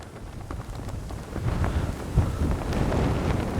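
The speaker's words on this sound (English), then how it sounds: "Boy, is it windy." Strong wind at an RC plane flying field buffets the microphone with a loud, rough rumble that swells and gusts throughout, with no speech.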